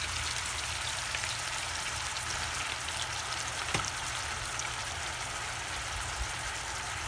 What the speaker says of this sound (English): I want to make sure the ground turkey is very well brown, sauteed.